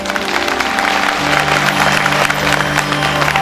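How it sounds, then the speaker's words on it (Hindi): An audience at a gathering claps loudly and continuously in honour of mothers, a dense wall of applause with a sustained tone humming underneath. "तालियां बजा करके सम्मान करें।"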